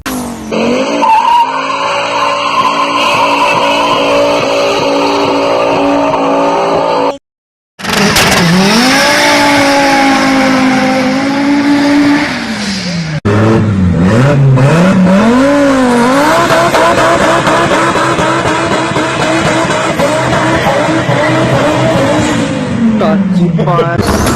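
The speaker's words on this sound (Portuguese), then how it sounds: "o Maré 5 cilindros turbo tem um dos roncos mais lindos que já foram produzidos neste país de bananas." A Fiat Marea five-cylinder turbo roars loud and close, its pitch rising and falling through long revving pulls, broken by a short pause midway.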